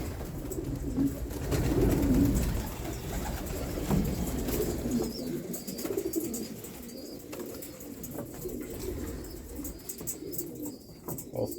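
Racing pigeons coo softly in a loft while they feed, with low murmuring calls, faint chirps and a few wing flaps close by and no talk.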